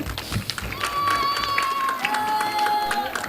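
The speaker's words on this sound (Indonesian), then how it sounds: "Tepuk tangan untuk peserta kita." An audience claps and cheers for contestants at a Fahmil Qur'an quiz contest during a Nuzulul Qur'an celebration in Bakungan, with steady crowd noise and a faint high whistling tone running through it.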